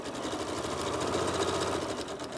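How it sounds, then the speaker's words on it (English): A sewing machine stitches steadily along the edge of a homemade fabric medical mask, securing elastic, with a rapid, even mechanical chatter that runs unbroken and close by. "And then you can sew down this side."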